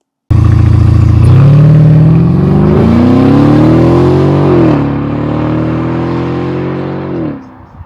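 A powerful 4.7-litre engine in a 2015 Mercedes S550 coupe weighing 4,600 pounds roars loudly up close, revving hard and climbing in pitch through gear changes as it accelerates to 60 mph, then eases off at the end.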